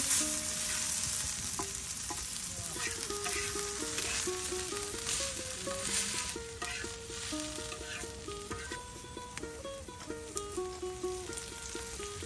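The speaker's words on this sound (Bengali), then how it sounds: "বারবার তেল দিচ্ছে যেন একদম মচমচে বাজি হয়" Fish and potatoes crisping in oil in a village kitchen as more oil is added again and again, a steady close sizzle with scattered stirring clicks beneath background music, no voices.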